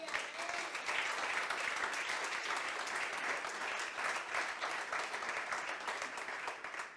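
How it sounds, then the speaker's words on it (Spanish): A church congregation gives a sustained round of applause to the Lord during a worship service, steady clapping at moderate distance with no speech over it. "¿Puede darle un aplauso al Señor usted?"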